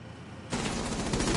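Rapid automatic gunfire fired through a wall in the shooter game Legion during a 1v1 match bursts in suddenly after a brief quiet moment and continues as a dense, rattling stream of shots.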